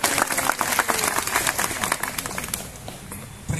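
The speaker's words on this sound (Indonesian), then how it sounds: "Tepuk tangan buat Anda semua." An audience at a seminar claps together in a dense, lively burst that fades over a few seconds, with no talk over it.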